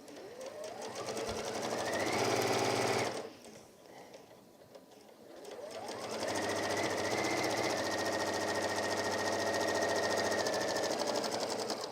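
A sewing machine stitches the seam of a gardener's kneeling cushion with a close, steady motor whir and rapid needle chatter. It revs up, pauses briefly, then runs on evenly and loud to the end, with no talk.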